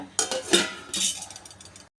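Metal lid set down over a pot of broad beans on a stove, a short run of clanks and rattles loud and close, then fading clinks for about a second before it stops.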